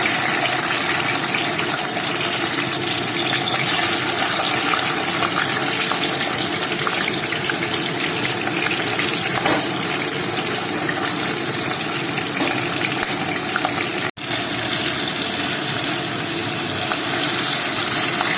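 Yogurt-marinated pomfret fish frying in hot oil gives a loud, steady, close-up sizzle and hiss that runs unbroken throughout, with no talking.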